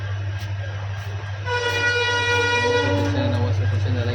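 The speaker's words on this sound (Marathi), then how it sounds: "आता आम्ही आलो डायरेक्ट ट्रेनमध्ये" Interior of a moving passenger train in India, with a steady low rumble of the carriage and a sustained horn-like harmonic tone swelling in midway and holding loud to the end.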